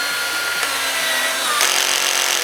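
A Ryobi PDD209 cordless drill runs with a steady, loud, close motor whine that shifts higher partway through, with no talk over it.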